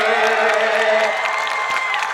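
A rally crowd in Gujarat cheers and applauds in a dense, continuous roar, with a voice rising above the noise.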